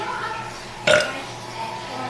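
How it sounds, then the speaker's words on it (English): A single loud, short burp rises out of quiet room noise during a burping contest, close to the microphone. "then we see who can burp the loudest"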